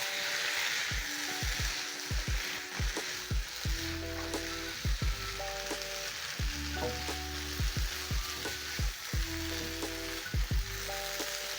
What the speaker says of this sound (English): So I'm going to stir in, and at this point I've reduced the heat to low